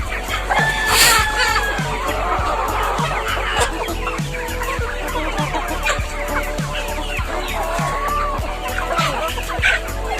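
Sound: hen clucking

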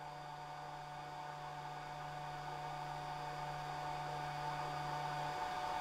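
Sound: Phrozen Sonic Mini 4K resin 3D printer cooling fan running

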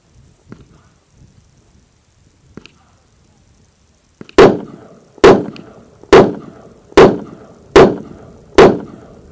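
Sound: revolver gunshots, six shots fired

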